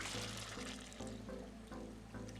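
Water from cooking peas poured into a pot of chili con carne, a steady close pour running continuously with slight gurgling, with no talking.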